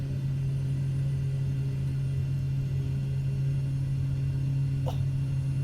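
Aircraft cabin engine noise in a flight simulator game, a constant loud low drone with a steady hum that holds unchanged throughout, with no voices.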